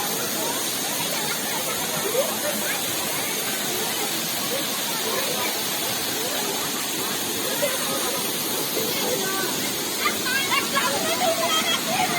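A powerful waterfall beside a cave on the Kanda Bhadrakali pilgrimage route roars as a steady, dense wash of rushing water, loud and unbroken for the whole stretch.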